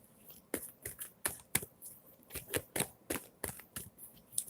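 Tarot cards are laid out on a table in a quick series of soft, crisp slaps and shuffles, close and fairly quiet, with no voices.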